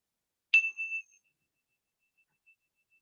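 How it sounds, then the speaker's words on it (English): A single meditation chime struck once, a bright clear ring with a sharp onset that sustains briefly and then fades out to near silence, with a faint trace of resonance lingering afterward. "you'll hear the sound of a chime"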